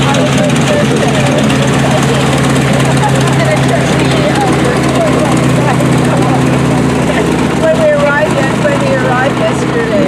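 A vintage propeller aircraft taxis at the Duxford Flying Legends airshow, its steady engine drone loud and continuous with a constant low hum, while people talk over it.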